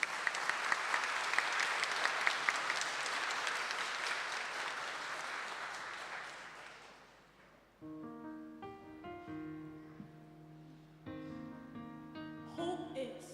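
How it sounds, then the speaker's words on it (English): Applause from an audience at a memorial lecture, clapping fairly faint for about seven seconds and then fading out as soft piano-like music begins and continues. "Ng Shi Zhen, Tan Yi Zhang, and Chao Bo Zhang with a round of applause."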